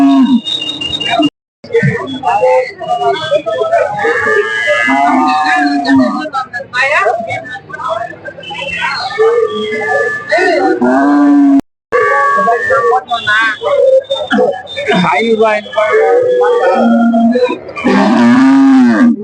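Cattle moo repeatedly at the busy Vellore Poigai cattle market, with loud, drawn-out lowing calls mixed into constant chatter and crowd noise close by.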